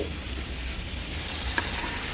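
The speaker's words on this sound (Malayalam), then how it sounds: "അതിലേക്ക് നമ്മുടെ കടല ഇട്ട് കൊടുക്കുകയാണ്" Cooked chickpeas hit hot ghee with a steady close sizzle as they are stirred, one small scrape standing out near the end.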